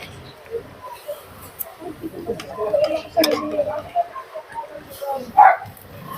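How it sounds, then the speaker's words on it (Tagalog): Dogs bark and yip intermittently in the background while people talk nearby, the barking short and scattered. "maingay yung mga aso dun"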